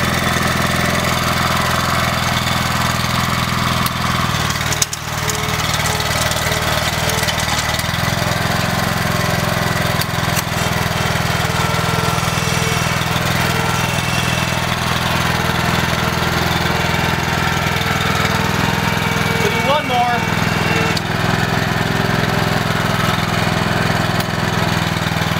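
A Berta rotary plow turning soil behind a tractor makes a loud, steady mechanical drone that runs unbroken, with one brief knock partway through and no talk.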